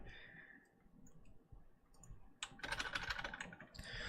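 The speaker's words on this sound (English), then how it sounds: "let's go back to Notepad here because we're gonna do some math typing here" Typing on a computer keyboard in Notepad, heard as a dense, close burst of rapid key clicks in the latter part, after quieter, sparser tapping.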